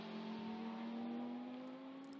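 A GT race car at the Hungaroring accelerating onto a new lap, its engine a steady rising drone with a faint high whine, fairly distant and alone.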